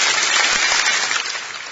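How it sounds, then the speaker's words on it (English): A children's worship service gives a child a round of applause: close, dense clapping from a group, steady throughout and slowly easing off toward the end, with no one speaking. "Everyone give Elise a big round of applause."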